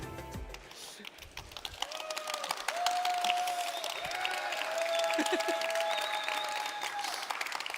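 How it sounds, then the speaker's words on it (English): A hackathon audience applauds at a live blockchain conference stage event, sustained dense clapping filling the room with a voice briefly heard at the start. "This is why they're applauding so hard."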